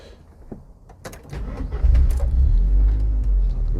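A Ford Fiesta track car with a Puma engine cranks briefly, then catches and roars into a loud, steady idle rumble close by.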